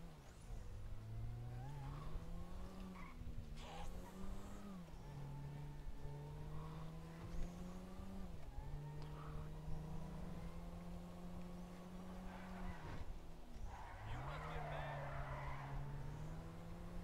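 A car in the game GTA drives with a steady, droning engine that rises and falls as it revs, and tires squeal and skid repeatedly throughout, loud and close with no talking.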